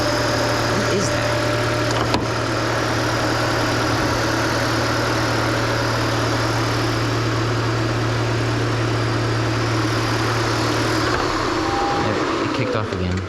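Electric pump running inside a hybrid car, a steady low hum with a constant tone that drones for about eleven seconds under a voice, then shuts off.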